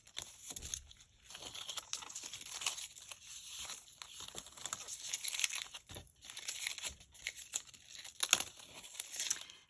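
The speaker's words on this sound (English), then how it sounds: "I'm going to remove the tape very carefully." Adhesive tape is peeled slowly off paper and a stencil in a papercraft stamping project, giving close, continuous crinkling and soft tearing textures that rise and fall in small bursts with no talking.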